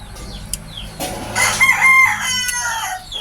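A Milsim Black breeder gamefowl rooster crows once, loud and close, the call rising and holding for about a second, with a few faint clucks and bird sounds around it and no talking.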